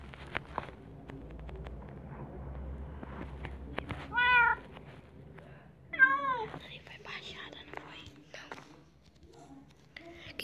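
Cats meow in a video game, two clear drawn-out meows a couple of seconds apart over quiet background clicks and faint footsteps, with soft whispered talk nearby.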